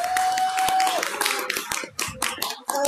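An audience applauds children at a gathering in Klaipėda, Lithuania, with a burst of steady hand clapping in a room, close and lively, while a sustained tone and a voice are heard underneath.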